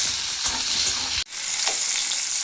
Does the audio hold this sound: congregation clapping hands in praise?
no